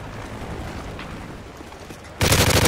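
A friendly Cobra helicopter opens fire in Call of Duty MW3 with a sudden, loud burst of heavy rapid gunfire near the end, following a stretch of quieter, muffled battle noise.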